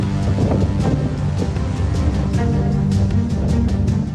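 Strong winds of Cyclone Biparjoy lashing Gujarat's Saurashtra and Kutch coast, a loud, continuous roar of wind buffeting the microphone with low rumbling gusts and repeated sharp bursts throughout.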